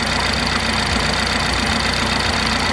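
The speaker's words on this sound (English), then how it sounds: "Right, we've started the BMW now." A BMW 330e engine running steadily after a coolant refill on a car with a leaking water pump, a close, even idle with a faint rhythmic knock throughout.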